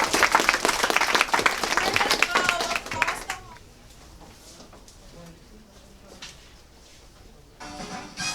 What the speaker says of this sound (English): we want to take a minute to give you a round of applause